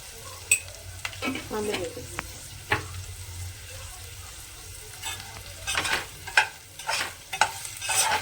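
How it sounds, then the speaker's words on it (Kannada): Onions fry in hot oil with a little salt in a pan for drumstick palya, a steady soft sizzle under repeated scraping stir strokes that grow busier and louder toward the end, with no talk. "ಎಣ್ಣೆನೆ ಫಸ್ಟ್ ಫ್ರೈ ಮಾಡ್ಕೊಂಡು ಇದ್ರೊಳಗೆ ಈರುಳ್ಳಿ ಹಾಕ್ತೀರಾ? ಸ್ವಲ್ಪ ಉಪ್ಪು ಹಾಕ್ತಾ ಇದ್ದಾರೆ ಫ್ರೈ ಮಾಡ್ಬೇಕಾದ್ರೆ."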